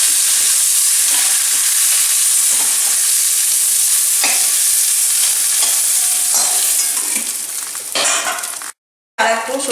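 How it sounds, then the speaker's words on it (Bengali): Prawns frying in hot mustard oil, a loud, steady sizzle and hiss with occasional stirring scrapes, close up, cutting to a brief silence near the end before the frying noise returns. "চিংড়ি মাছ ভাজার গন্ধ বেরিয়ে গেছে, চিংড়ি মাছটা ভাজা হয়ে গেছে।"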